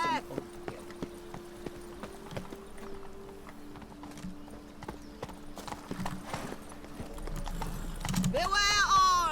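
Roach, the horse in Witcher 3: Blood and Wine, gallops with a steady, close clip-clop of hooves running the whole time. A whinny rises near the end, and game voices come and go underneath.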